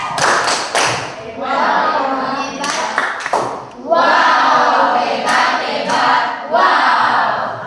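A math class performs the 'tepuk hebat' clapping chant: quick rhythmic bursts of group clapping mixed with loud chanting voices of many students, close and energetic, ending in a shouted chorus.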